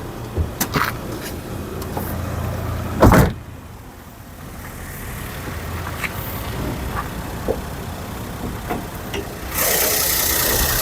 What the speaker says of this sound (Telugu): ఇంజన్ బీటింగ్ కూడా చూడండి, చాలా సైలెంట్ ఉంది